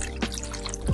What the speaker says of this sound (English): I'm just gonna pour over the broth I just made.